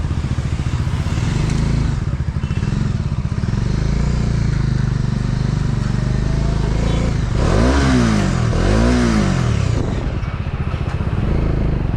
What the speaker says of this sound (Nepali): डोमिनार 400 सीसी को म फर्स्ट बाइक चलाउँदैछु।